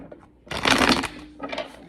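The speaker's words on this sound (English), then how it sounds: "I'm going to do one last shuffle." Tarot cards being shuffled, a close rapid riffling burst followed by a shorter softer flutter, with no talk over it.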